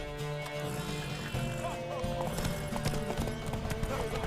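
Rhythmic hoofbeats from The Witcher 3: Wild Hunt clip-clop steadily under a busy layer of tonal background sound, with voices mixed in.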